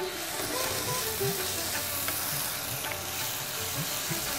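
Prawn chutney sizzles and fries steadily in a pan, with a dense crackling hiss and occasional stirring scrapes carrying on throughout.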